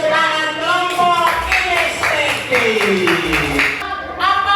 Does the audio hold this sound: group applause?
yes